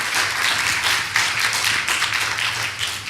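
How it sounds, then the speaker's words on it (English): An audience applauds a panel at an agriculture and food systems session, giving a steady, dense wash of clapping that lasts about three seconds at moderate distance. "let's give them a big round of applause."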